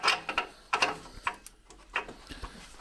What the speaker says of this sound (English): Removing the sensors a lot easier than actually tightening it back up using a torque wrench.